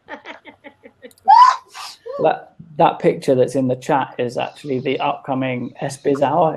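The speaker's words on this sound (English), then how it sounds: "Yes, I got the first sneeze off cam." A sudden, forceful human sneeze bursts out once early on, then conversational speech carries on over it; people talk throughout, with a few short vocal sounds before the sneeze.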